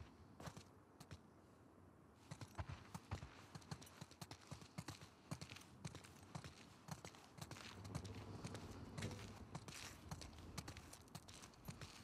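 Horses walk with steady clip-clop hooves in the video game The Last of Us Part II, a close, irregular stream of sharp hoof strikes on hard ground, fairly quiet, with a low rumble partway through.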